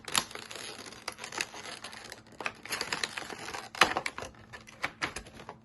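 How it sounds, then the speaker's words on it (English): Close, crisp crinkling and rustling of plastic wrap being pulled off a 1:400 model airliner, in irregular bursts with sharp crackles and no talk. "Remove the plastic"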